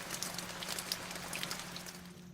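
Steady rain falling as a sound effect in an audio drama, a soft continuous patter of drops with a low hum beneath, quiet and unbroken with no voices.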